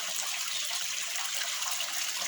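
Raw beef tripe being washed by hand under running water: a loud, continuous hiss and splash of flowing water, close and steady, with no speech.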